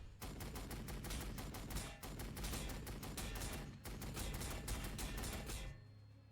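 Rapid, sustained bursts of gunfire from a Warhammer 40,000: Sanctus Reach multiplayer match, loud and dense, with two brief pauses before cutting off near the end.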